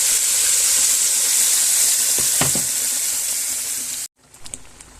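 Strong, steady sizzle as ridge gourd drops into hot oil with popping nigella seeds, loud and close and continuous for about four seconds, cutting off suddenly into softer stirring sounds.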